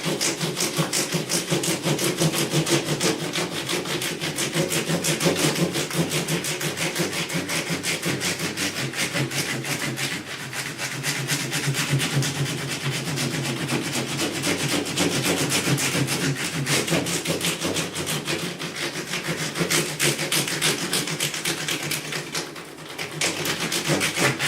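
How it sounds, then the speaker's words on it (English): Fine 1500 grit sandpaper rubbed across the old frets of a Fender Jaguar guitar during a re-fret, giving a close, continuous, scratchy rasping that holds steady with rhythmic back-and-forth strokes for over twenty seconds, with no talk. "all I do is I take 1500 grit, like so, and I'm just going to go across the old"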